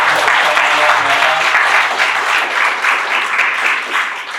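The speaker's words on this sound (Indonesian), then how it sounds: "Mari kita kasih tepuk tangan sekali lagi untuk" Sustained audience applause at a public discussion forum on the future of democracy, dense and steady clapping from a large crowd throughout, loud and continuous without a break.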